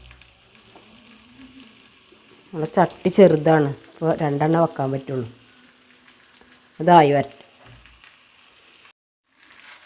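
Banana stuffed and coated in maida frying in coconut oil in a small home pan, a soft steady sizzle running underneath someone speaking in Malayalam.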